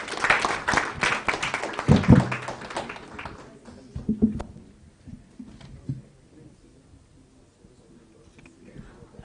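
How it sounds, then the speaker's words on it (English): Applause from a conference audience for the discussants starts strong with dense clapping, then thins into scattered claps that fade out over several seconds, with a voice heard briefly. "a round of applause for all our discussants"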